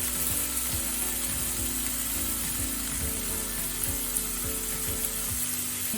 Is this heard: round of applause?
no